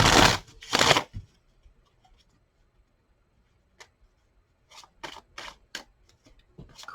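Island Wellness oracle cards being shuffled by hand, two loud riffling bursts at the start, then a quiet stretch and a run of softer card flicks and taps.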